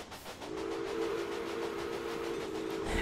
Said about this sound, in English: you are the freight train, yes, so you'll take the siding instead